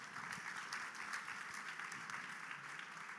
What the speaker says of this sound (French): Merci à tous les trois, on peut vous applaudir.